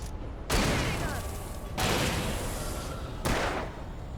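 Enemy gunfire in the video game Alan Wake comes as three loud bursts of dense, noisy shooting, each cutting in abruptly and running for over a second, with a brief gap before each new volley.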